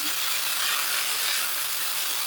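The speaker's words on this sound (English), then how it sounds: "our frying pan is starting to get a little bit hot. And I'm just going to dump our onions in." Onions frying in a pan give a continuous, even hiss of sizzling and steam, loud and close, with no voices.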